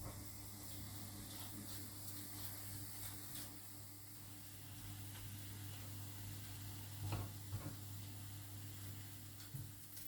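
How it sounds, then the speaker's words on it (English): Bacon fries in a pan over high heat for a chicken and bacon pie, producing a steady, quiet sizzle with a few faint stirring knocks. "Back onto the heat. I'm going to turn that right up, and we're going to fry off our bacon."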